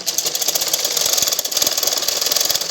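A sewing machine stitching a 42-inch blouse runs close and loud, with a fast, even mechanical rattle of needle strokes and a steady motor hum, and no talking over it.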